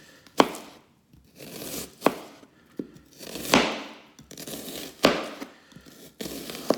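A knife chops an onion on a cutting board in sharp, separate thwacks, about seven of them at an uneven pace. Softer scraping comes between the cuts, and there is no talk.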